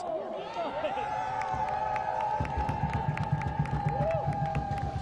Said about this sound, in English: this crowd is something else here in Salt Lake City